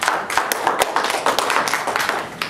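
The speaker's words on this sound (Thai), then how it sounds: "ปรบมือให้กลุ่มนี้หน่อย" A group of workshop participants clapping their hands, a brief burst of loose, overlapping claps at close range that stays fairly even for a couple of seconds.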